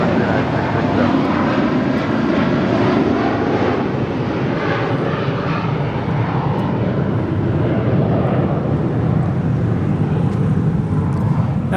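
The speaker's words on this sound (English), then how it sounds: "That is United Airlines 667 departing to Newark on a 757-200." A United Airlines Boeing 757-200 departing Los Angeles International Airport produces a loud, sustained broadband engine roar that holds steady throughout, heavy and close.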